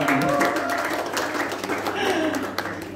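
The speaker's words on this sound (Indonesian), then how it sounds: "Wih, tepuk tangan dulu ya foto ini." An audience at a youth church gathering claps for a photo shown on screen, a brief loud burst of applause over a low hum of room noise.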